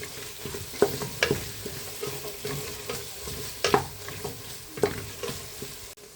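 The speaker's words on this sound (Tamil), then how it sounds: "ஒரு 1/4 டீஸ்பூனு போட்டுட்டு கிண்டி விட்டுக்கணும்." A spoon stirs ingredients sautéing in a pan with a pinch of powdered asafoetida for Tamil-style rice and lentil rice, giving a soft steady sizzle broken by several distinct scraping clanks against the pan, close up, with no talking.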